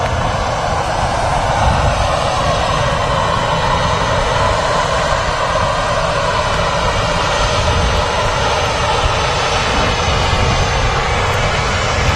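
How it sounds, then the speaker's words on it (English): An EasyJet airliner arriving at Manchester Airport taxis toward Terminal 1, its jet engines giving a loud, steady, continuous roar with no talk over it. "EasyJet just arriving, going to make its way over to Terminal 1."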